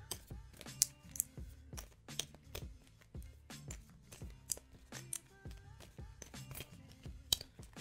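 Tarot cards being shuffled by hand close up, a steady run of short crisp riffles and soft slaps repeating every half second or so, alone with no talking.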